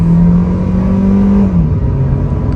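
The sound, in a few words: Kia Carens DCT accelerating hard in sport mode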